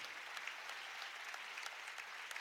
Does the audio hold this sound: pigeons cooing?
no